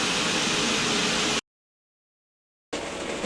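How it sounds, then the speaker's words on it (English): Steady pink noise fills a bedroom, a broad even hiss that cuts out completely for over a second before resuming, captured on a Saramonic USB mic for a GoPro Hero 3/4. "So this is the sound check in the bedroom with pink noise in the background"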